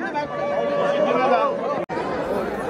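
Dense chatter from thousands of people crowding the temple grounds and steps at the Ghodemukh jatra in Pendur Matond, a steady babble of many voices with one brief dropout near the end.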